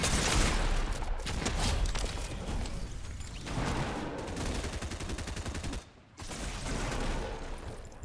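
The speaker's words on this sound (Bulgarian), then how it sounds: "Кой ме стреля, бе?" Rapid gunfire from the Fortnite video game rattles in dense bursts, loud and close, with a brief gap near the end before the shots resume.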